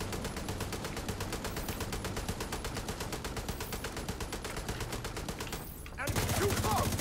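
Rapid automatic gunfire from The Division 2 rattles in a dense, continuous burst for several seconds, then cuts to a louder, different scene with game sounds and a voice.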